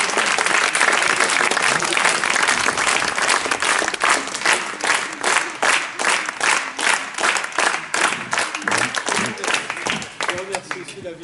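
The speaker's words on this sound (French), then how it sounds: "je vous conseille de beaucoup les applaudir" Audience applause for volunteers at a street theatre show in Marseillan, loud, sustained clapping from a crowd that falls into a rhythmic, evenly pulsing beat, with voices mixed in.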